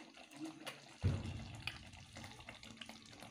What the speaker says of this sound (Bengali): আমি একটু গোলাপ জল আর কেওড়া জল এটা দিয়ে দিব।